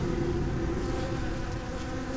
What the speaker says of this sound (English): You can probably hear the buzz. And that's an excited buzz. It's not an angry buzz.